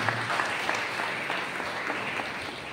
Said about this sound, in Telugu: వారందరికీ కూడా చప్పట్లు కొడుతూ అభినందిస్తున్నాను